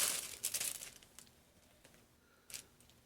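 A box of Island Batik rayon fabric being ripped open, with close crinkling and tearing bursts early on, a few scattered rustles, and another sharp rip near the end, no talking.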